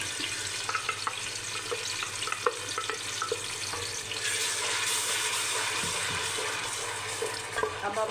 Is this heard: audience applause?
no